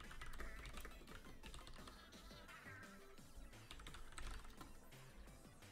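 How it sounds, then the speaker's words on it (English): Mechanical-switch computer keyboard typed on in quick, uneven bursts of sharp clicks and clacks, close and clear with no talk over it. "Chat, you're hearing my keyboard, right?"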